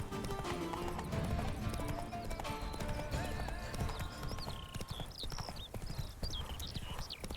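Rapid hoofbeats of a galloping horse clatter steadily in The Witcher 3: Blood and Wine, with a horse whinnying and game music playing underneath.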